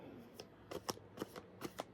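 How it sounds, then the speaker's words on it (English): Tarot cards being shuffled in close, crisp bursts, a quick riffling rhythm of four or five flicks. "So I'm going to just shuffle"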